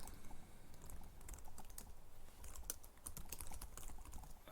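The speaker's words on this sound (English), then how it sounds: "So we'll type create database Laravel." A SQL command is typed on a computer keyboard while setting up a MariaDB database, rapid irregular key clicks in quick bursts with short pauses, close but quiet, with no talking.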